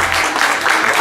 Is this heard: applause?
yes